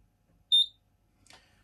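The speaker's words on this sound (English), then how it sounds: "the machine will beep when it's finished" A single short, high electronic beep from a Brother electronic knitting machine signalling a finished track deletion, followed by a brief faint rustle in an otherwise quiet room.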